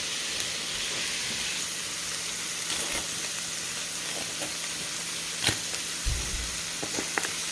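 Chopped onion sizzling in leftover burger grease in a pan, a steady close hiss of frying with a few soft clinks and taps of utensils against the pan.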